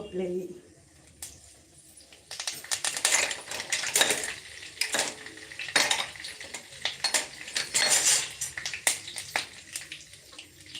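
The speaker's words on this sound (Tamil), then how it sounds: "கடுகு தெரிக்குது" Mustard seeds spluttering in hot oil in a home kitchen pan while cooking a tomato gravy, a steady run of sharp crackling pops and clinks over about ten seconds, moderately loud and close.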